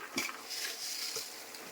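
Vegetarian curry is stirred in a pan, a faint soft sizzle with a few light scrapes and taps of a utensil, quiet and close, with no talking.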